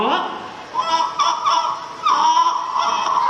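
Turkey calls in a bright, harsh series of honking, gobbling bursts, loud and close, repeating in uneven clusters with brief gaps, alone without talk.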